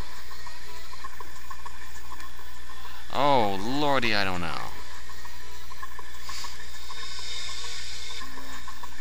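A toilet in the 999 video game flushes with a steady rush of water that runs under a short spoken remark and fades away.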